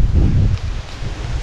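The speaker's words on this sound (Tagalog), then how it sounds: "Malakas pa naman yung hangin." Strong wind buffets the microphone with heavy low rumbling gusts that ease and then return.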